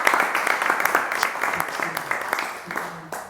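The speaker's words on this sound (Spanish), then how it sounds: "Un aplauso." Audience applause at a talk or event, a burst of many hands clapping steadily across the whole span and fading slightly near the end.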